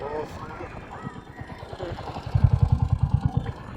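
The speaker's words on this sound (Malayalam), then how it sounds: "കുതിര സവാരി ഉണ്ട് ഇവിടെ" Rapid hoofbeats clip-clop close by, a quick even run of hits rising near the end, with people talking and outdoor bustle underneath.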